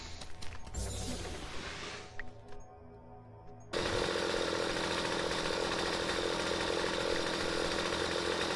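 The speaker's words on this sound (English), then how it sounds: "I've seen chainsaws with 4 or 5 blades on them." In the video game StarForge, scattered gunfire and clatter give way partway through to a chainsaw weapon starting up and running loudly and steadily with a harsh, grinding buzz until the end.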